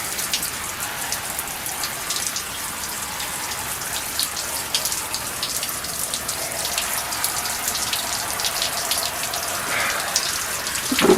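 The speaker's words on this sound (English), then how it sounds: "Sit back in the water for a second, rinse off." Water splashes and patters continuously as someone sits back in a bath to rinse off, a steady close wash of droplets with a slightly louder surge near the end.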